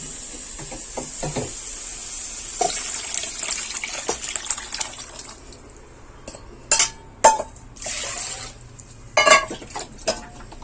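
Tamarind water mixed with tomato, coriander, turmeric, salt and spices is poured into a pot for pirandai rasam. A steady close gush and splash is followed by a few clinks and knocks of the vessel.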